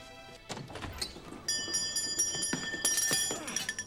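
A bell sets off as a booby trap inside a big house in a TV horror series scene, ringing twice with bright sustained tones amid scattered thumps and bumps, fairly faint.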